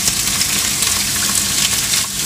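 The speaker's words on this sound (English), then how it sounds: "Let's cook our shrimp. Put 3 tablespoons of olive oil. Now let's put our shrimp." Shrimp sizzle in three tablespoons of olive oil in a pan, a dense, steady crackle of frying that fills the moment close and loud without pause.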